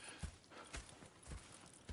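Horse hooves clip-clop at a slow, uneven walking pace in Red Dead Redemption 2, soft and somewhat distant over a faint background hiss.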